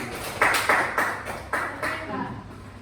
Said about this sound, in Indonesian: Sekarang beri tepuk tangan untuk orang